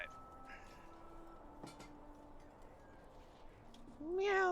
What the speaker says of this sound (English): Meow, you heard a kitty cat in the background.